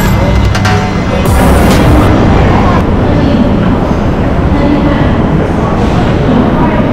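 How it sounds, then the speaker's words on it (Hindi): A train rolls through Jalandhar railway station in India with a loud, continuous rumbling roar and broad clattering noise, filling the whole scene close up. "ये है जी जलंधर का रेलवे स्टेशन"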